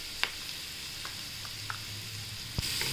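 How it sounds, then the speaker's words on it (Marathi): Garlic sautéing in oil in a pan for buttermilk-spiced leftover chapati, a faint steady sizzle with a few light clicks of stirring and a louder clatter near the end, no talk. "आता आपण छान परतून घेऊया लसूण 2 मिनिटं।"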